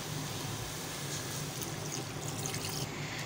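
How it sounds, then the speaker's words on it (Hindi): Water pours steadily into a pot of beef being prepared for yakhni for a beef chana pulao. The even, rushing splash continues throughout with no talk. "अभी हम यखनी बनाएंगे तो इसके साथ ही हम पानी ऐड कर देंगे इसमें।"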